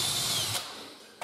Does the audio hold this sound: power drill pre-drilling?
yes